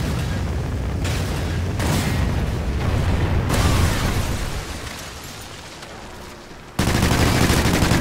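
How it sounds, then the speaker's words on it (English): Rocket strike blasts and sustained gunfire in Call of Duty: Ghosts on the Sovereign map, dense booming explosions and rattling shots filling the clip, a sharp renewed burst near the end. "Friendly Trinity rocket inbound."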